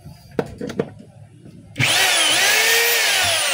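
A power drill under test starts after a few faint knocks and then runs loud and steady at high speed, close by, to the end.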